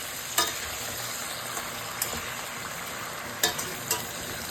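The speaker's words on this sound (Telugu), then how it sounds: "ఒకసారి మధ్యలో కలపాలి, ఎందుకంటే ఇది మాడిపోకుండా వేయించుకోవాలి." Ingredients for Hyderabadi mirchi ka salan fry in a pan with a soft, steady sizzle, broken by a few sharp spatula taps and scrapes as they are stirred.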